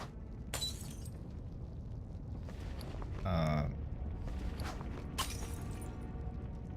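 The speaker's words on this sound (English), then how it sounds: "Breaking glass is driving me insane." Brief shattering of glass in a video game, a sharp crash standing out over a steady noisy background, with a couple of fainter sharp clicks around it.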